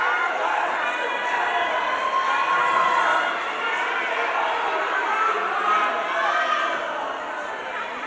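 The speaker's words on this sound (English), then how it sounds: "And listen to the excitement in the crowd." A crowd packed into a small gym at a wrestling tournament roars and shouts continuously, a dense, loud wash of excited voices that holds steady and then eases slightly near the end.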